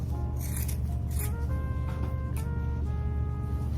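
Scissors cutting through candy, with a few sharp, close snips spaced a second or so apart over a steady tonal melody playing in the background.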